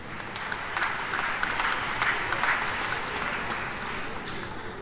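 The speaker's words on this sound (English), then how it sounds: "Please, if you want to clap," A church congregation at a retirement service for an archbishop applauds steadily, a dense, continuous wash of many hands clapping throughout, moderately loud and even with no voices standing out.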